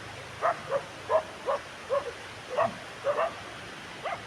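Small high-pitched yips and whimpers from young puppies come in short repeated bursts, about a dozen, close by against quiet background.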